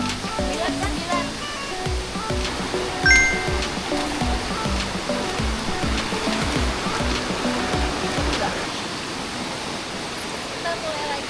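River stream crossed on a trek to Curug Cisadane waterfall in Indonesia, a continuous close rush of flowing water with faint voices underneath.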